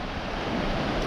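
Avon River flowing over Bells Rapids, a section used by the yearly Avon Descent race, giving a steady, loud broadband rush of fast water with constant turbulence and no voices.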